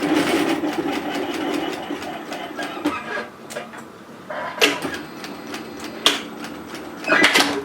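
A sewing machine stitches down the tucked-in overlocked edge of a one-shoulder knit sweater, running in a steady continuous whirr with short pauses and surges, close and fairly loud, no talking over it.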